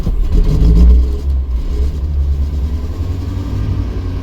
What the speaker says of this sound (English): I might have flooded it when I dumped everything in there, so I'm cranking it.